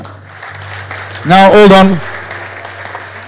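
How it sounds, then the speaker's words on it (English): Audience applause at a priests' convocation, a burst of clapping swelling in the middle, with someone speaking loudly over it and calling for attention. "While they are clapping"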